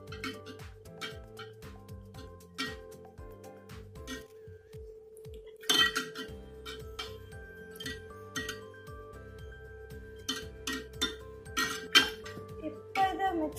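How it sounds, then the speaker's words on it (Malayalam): A spoon stirs carrot juice with water, sugar and lemon in a glass, giving repeated light clinks and taps scattered through the stretch, moderately close, over soft background music. "ഇനി നമുക്കിത് നല്ലപോലെ മിക്സ് ചെയ്യാം."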